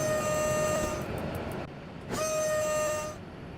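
A heavy train's horn in the SimRail railway simulator game: two long, loud, steady tonal blasts separated by a short gap, over a low running rumble.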